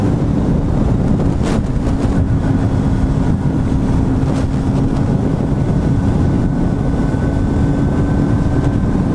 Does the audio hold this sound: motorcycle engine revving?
yes